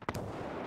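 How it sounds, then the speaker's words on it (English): Gunfire in Escape From Tarkov: a single sharp shot with a quick echoing second crack, then a lingering reverberant rumble, moderately distant and fairly faint. "There's a guy shooting at him inside too."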